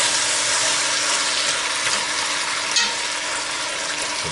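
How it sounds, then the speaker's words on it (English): Chicken pieces searing in a hot pan for curried chicken with potato, a loud continuous hissing sizzle close by with no talk. "This is the searing. You have to sear it and you seal those seasonings in and the juices in."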